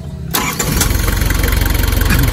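A car engine cranks and catches, then settles into a steady, loud, rhythmic idle close by, with no talking over it.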